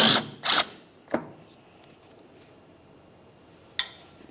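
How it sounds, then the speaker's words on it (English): A tool works a 10mm bolt loose from a car rocker panel, with a few sharp ratcheting bursts followed by isolated metallic clicks in an otherwise quiet space. "Remove the bolt."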